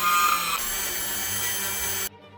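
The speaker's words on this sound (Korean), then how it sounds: "드라멜로 구멍을 뚫어줍니다." A Dremel rotary tool drills a hole into the plastic body of a Kriss Vector airsoft electric gun, giving a close, high whine that shifts tone partway through and then stops abruptly.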